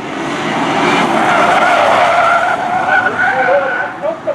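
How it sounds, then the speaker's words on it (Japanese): Race car tires skid and squeal under understeer as the driver accelerates through a corner at a JAF Cup motorsport event in New Chitose, a sustained loud screech with engine noise and an excited commentator talking over it. "飛び込み少しアンダーが出ていたぞさあそのアクセルを踏んでいるが織本選手"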